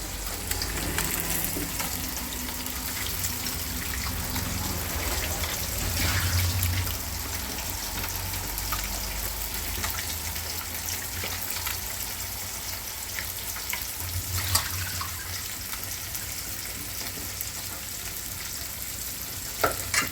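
A large fish fries in oil in a pan, a steady close sizzle and hiss running throughout, with occasional soft knocks and clinks from the kitchen.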